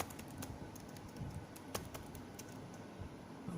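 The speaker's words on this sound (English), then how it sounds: "so let me type something proper" Typing on a computer keyboard, a string of light, irregular key clicks at moderate distance over faint room hiss, with no voices.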